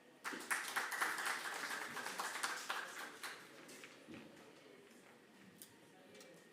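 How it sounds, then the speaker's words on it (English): Audience applauds a speaker at a carbon-market session in a conference pavilion, a brisk burst of clapping that thins into scattered claps and dies away, with faint voices under it. "Let's give a round of applause for Dirk."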